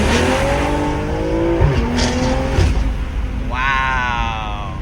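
A BMW M340i on drag radials accelerates hard from a second-gear roll, the engine note climbing steadily and loud with a brief tire chirp, then an upshift and renewed rising pull, heard close from inside the car.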